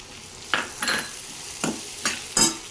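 Curry leaves and garlic go into a hot pan for onion chutney, giving five short, close bursts of sizzling and stirring spread over a few seconds against a faint, steady background.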